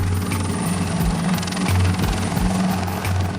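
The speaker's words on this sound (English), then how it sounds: "a footy game was halted for the MedStar chopper to land on the oval." A MedStar rescue helicopter lands on a sports oval where a football game has stopped. Its rotor thumps loudly and steadily over a droning turbine whine, close by and with no voices.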